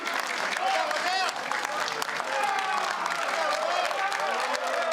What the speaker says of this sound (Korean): 더불어민주당 개표 상황실에선 박수와 환호가 터져나왔고